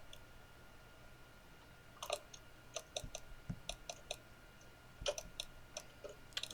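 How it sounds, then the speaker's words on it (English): Repeated sharp clicking picked up by a player's microphone during a tabletop Dungeons & Dragons session, quiet, irregular clicks in small clusters over a low steady hum, with no talking. "What's that fucking clicking again?"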